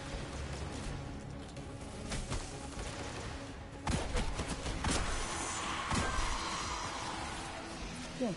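Sharp heavy hand cannon gunshots ring out a few times amid a busy, noisy video game soundscape, each blast loud and punchy with some echo.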